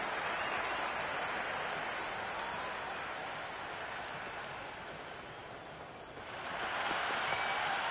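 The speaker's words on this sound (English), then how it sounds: "The crowd is electric right now." A cricket stadium crowd in the video game Cricket 26 gives a broad, steady wash of applause and cheering that dips slightly before swelling again near the end, heard alone.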